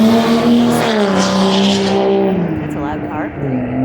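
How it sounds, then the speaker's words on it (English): A loud car engine drones and shifts pitch as it passes close by on a downtown Phoenix street, the roar steady and heavy throughout with some voice under it. "That's a loud car."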